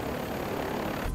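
A helicopter engine roars in a steady, loud, droning hum, filling the whole moment with close, continuous rotor noise.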